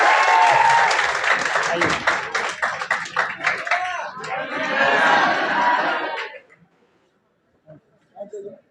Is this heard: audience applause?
yes